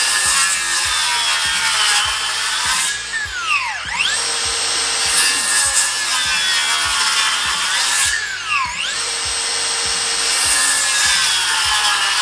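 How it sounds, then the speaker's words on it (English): A Makita 10-inch circular saw, blade just over 10 inches, makes drop cuts into a timber-frame beam. Its steady, loud whine runs throughout, with two rising and falling sweeps as the blade plunges and withdraws, and no voices. "This is a Makita 10-inch saw."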